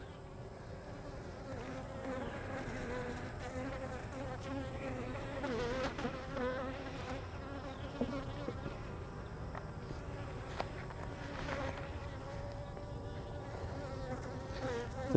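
Honeybees at a small, weak hive hum in a steady, dense drone that holds level throughout, with individual bees buzzing closer now and then over the constant background swarm.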